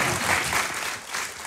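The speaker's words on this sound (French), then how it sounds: "Applaudissez, bande de chiens!" An audience applauds in a short, fairly faint burst of dense clapping that swells and dips slightly, with no voices over it.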